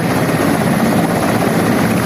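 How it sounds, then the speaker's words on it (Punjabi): A loud, steady rotor and turbine roar from an Indian Army helicopter landing at a grain market in Dera Baba Nanak during flood relief, continuous and close with no speech. "ਇੱਕ ਆਰਮੀ ਵਾਲਿਆਂ ਦਾ ਹੈਲੀਕਾਪਟਰ ਉਤਰਿਆ"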